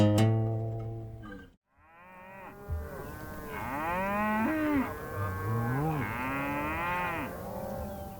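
Cattle mooing loudly during a herd drive on a mesa, several long drawn-out moos following one after another, close and clear, with no talking.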